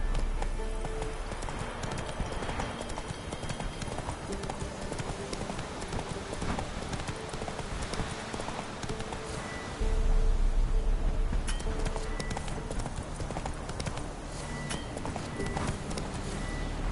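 Roach, the horse in the video game The Witcher 3, clip-clops in a steady, brisk rhythm throughout, the hoofbeats growing louder partway through over rustling ambience.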